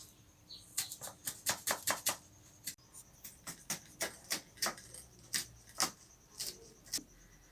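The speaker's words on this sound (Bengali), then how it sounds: "পেঁয়াজ, মরিচ, ধনিয়া পাতা কাটা হয়ে আসছে।" Knife chopping onion, green chilies and coriander leaves on a board for an egg-filled Mughlai fry: a steady run of about twenty crisp, close taps at a brisk even rhythm, with no talking.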